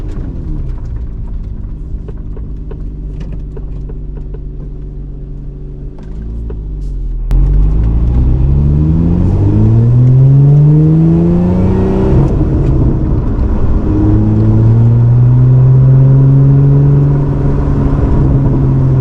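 A Lotus Emira with a JB4 and VF tuner lid pulls hard through the gears, its engine note climbing in rising sweeps with shifts between them. The first few seconds are a steady, quieter drone before the loud full-throttle run kicks in.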